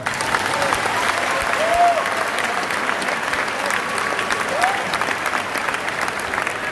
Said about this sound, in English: Can someone clap for my dad?